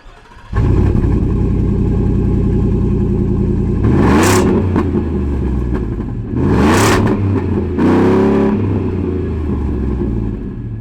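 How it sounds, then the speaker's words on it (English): A loud V8 truck with a Gibson performance exhaust and dual tips idles with a deep burble, then revs sharply three times, each blip rising and falling back to a rumbling idle. "an amazing sounding performance exhaust by Gibson with dual black powder coated tips. Let's take a listen."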